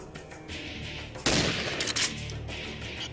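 Rifle fire in the video game Die Die Die: one loud, sharp burst cuts in abruptly over a steady game background, then a couple of smaller cracks trail after it.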